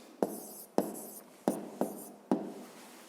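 Chalk or pen writes out a physics problem solution in five sharp scratching strokes at irregular intervals, each a crisp attack fading quickly, close and alone without talk.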